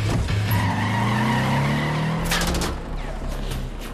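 A Lada car in Wolfenstein: The New Order skids with a loud, sustained tire squeal and engine drone, then a quick clattering rattle near the end before the sound eases off.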